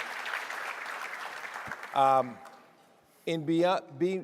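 An audience at a leadership summit lunch applauds two honorees, a broad wash of clapping that fades over about two seconds before someone speaks loudly nearby.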